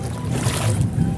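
Strong sea waves surge at a beach in a dense, steady broadband rush that stays loud and close throughout the brief moment.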